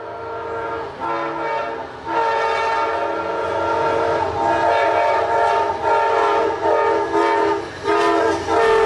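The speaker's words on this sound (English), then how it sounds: "Here's an example of the other T5LA horn it has today." An Amtrak locomotive sounds its five-chime T5LA horn in a series of loud, sustained blasts with short dips between them, over a faint background rumble of the train.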